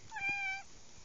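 A single short meow from a cat, close but fairly soft, in a quiet room.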